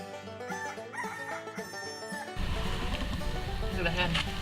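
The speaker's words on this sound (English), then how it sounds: "Look at the chickens." Chickens on a farm, with a rooster crowing and hens calling, over people talking nearby and a busy, noisy background that thickens partway through.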